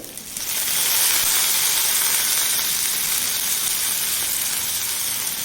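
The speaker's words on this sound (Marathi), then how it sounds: "मीडियम गॅसवर भेंडी अगदी तुम्ही पाहू शकता इथं अगदी छान करपूस अगदी मी भाजून घेतली" Okra roasting in a pan over a medium gas flame gives a loud, steady sizzle that rises quickly at the start and then holds an even frying hiss, close up and with no voices.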